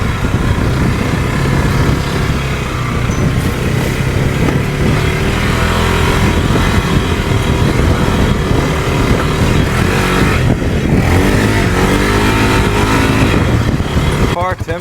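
A small 570 UTV engine revs loudly while the vehicle drives, with rising and falling throttle and rough rumbling near the microphone, and a voice is heard at times over the engine.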